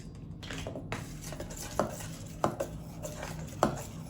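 Batter being stirred in a bowl with vanilla and milk for brownies, a utensil scraping and tapping against the bowl in irregular clinks and knocks, close and fairly quiet, with no talking.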